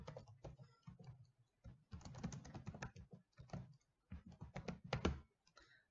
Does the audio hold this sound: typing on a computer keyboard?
yes